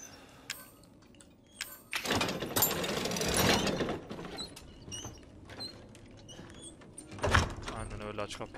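A door opens in the Resident Evil 7 biohazard game with clunking mechanical rattles and a long scraping slide, then a second scrape follows, heard under intermittent talking.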